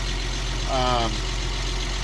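An Audi car whose oil pan was cracked in an off-road crash idles after repairs with a steady, even engine drone. Its tone rises briefly in the middle, then settles back to a constant hum.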